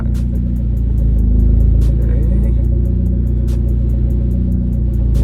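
A raised Genesis Coupe backs out of a driveway, its tyres close to the fenders; a steady, low engine rumble idles up close with faint, regular ticking over the top.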